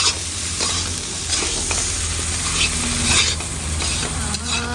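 Leftover rice is stir-fried with egg into fried rice, a loud, close, continuous sizzle of hot oil with repeated scraping and stirring strokes of a spatula against the pan.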